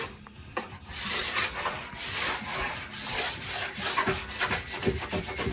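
A sharp scraper drags across a snowboard base, stripping off wax in repeated rough, rasping strokes, close and fairly loud with a steady back-and-forth rhythm and no voices.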